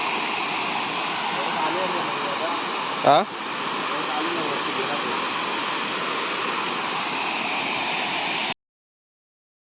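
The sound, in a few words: rushing water near a freshwater fishing spot at night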